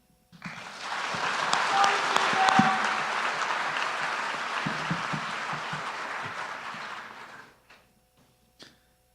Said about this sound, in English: Let's give one more round of applause for Gillian,